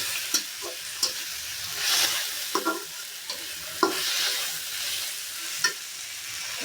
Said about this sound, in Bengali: আদা বাটাটা আগে দিয়ে দিই।